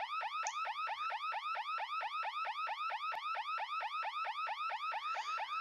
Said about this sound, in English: it set off the alarm keening through the house.